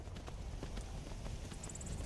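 Horse hooves clip-clop in the video game Skyrim, a quick, steady run of light hoofbeats, faint and fairly close, with no talking over them.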